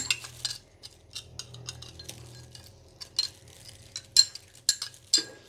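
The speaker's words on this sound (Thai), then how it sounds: "ใส่น้ำลงไปประมาณสองช้อนโต๊ะนะคะ คนให้ละลายเข้ากันดีนะคะ" Metal spoon stirring water into a stir-fry sauce for fern tips with oyster sauce, a run of light, irregular clinks and taps against the bowl, close and fairly quiet with no talking.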